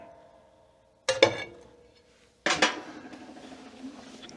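A metal wood-stove part shaken to knock off ash, giving two sharp clanking rattles about a second and a half apart, close and fairly loud, the second trailing off into a faint scraping rattle.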